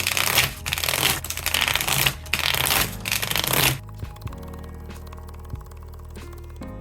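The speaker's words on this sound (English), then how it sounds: "take the deck, shuffle, and deal 13 cards to each player" A deck of playing cards is shuffled and dealt out for a game of Spades: several seconds of dense riffling bursts, then a quieter run of soft individual cards being laid down, close and with no talk.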